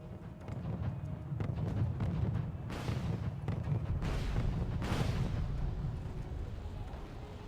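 Artillery shells land in the Wargame Red Dragon strategy game, a series of heavy booms and rumbling impacts at irregular intervals over a low continuous battle din, moderately loud with no voice.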